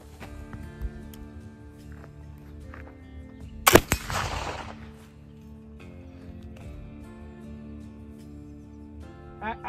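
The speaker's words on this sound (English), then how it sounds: "Shot number 1." A black powder rifle fires a single loud shot using a homemade cottonwood and green peas powder, a sharp close blast with a brief ringing tail, set against steady low background noise.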